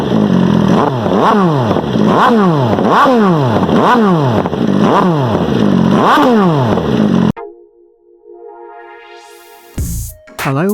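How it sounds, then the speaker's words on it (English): Loud, revving engine of a 2018 MV Agusta Brutale Dragster 800 RR motorcycle, rising and falling in a rapid repeated pattern for about seven seconds, then cutting to a quieter passage with a brief burst near the end. "This week I'm on the MV Agusta Dragster 800 RR Brutale"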